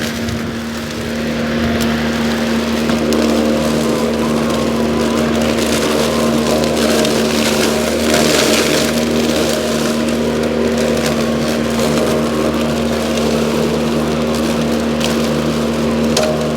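A DeWALT DCMWSP156 2x18V cordless self-propelled lawn mower runs continuously while cutting grass, a steady loud electric motor whine with blade whir and rustling clippings, close and unbroken.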